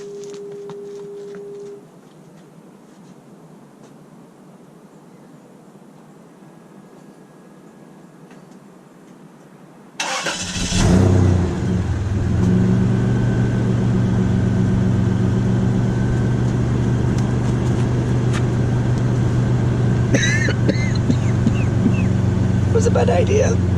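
After a quiet stretch, a car engine with a stock exhaust muffler cranks and catches partway through. It then settles into a loud, steady, rumbling idle that runs to the end.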